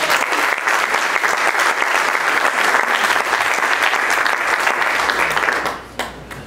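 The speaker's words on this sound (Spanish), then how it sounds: "Dale un aplauso a Dios." Loud, sustained applause from a church congregation, dense and steady throughout before cutting off abruptly near the end.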